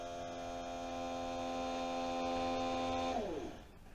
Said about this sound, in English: that's what the motor sounds like on its own.